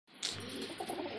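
Desi flying pigeons murmur in soft, low coos, faint and close, with a brief rustle at the start and no voices.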